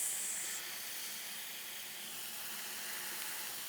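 Steaks sear on a Blackstone griddle with a steady, loud sizzle and hiss that runs unbroken throughout and stays close, with no voices.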